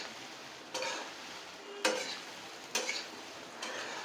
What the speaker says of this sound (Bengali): দিয়ে দেওয়ার পর এটাকে খুব ভালো করে মিশিয়ে নেব।